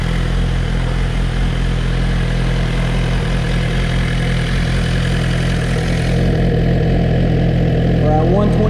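A new Suzuki GSX-R 1000R motorcycle idles during its first heat cycle, its loud, steady low engine drone running close and unbroken throughout, with a brief voice near the end.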